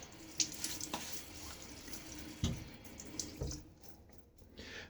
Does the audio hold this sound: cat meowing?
no